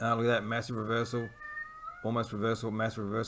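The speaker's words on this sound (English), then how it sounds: "Excuse my cat. She's 21 years old." An elderly 21-year-old female cat meows repeatedly and loudly close by, drawn-out harmonic cries interrupted by a short pause, with someone talking in between.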